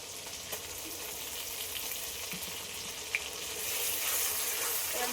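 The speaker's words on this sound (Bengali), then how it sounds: "মশলাটা ভালো করে কষিয়ে নিই" Ground spice paste sizzling in oil for a chicken meat curry, a soft steady fry with a watery hiss that grows louder near the end, one sharp clink midway.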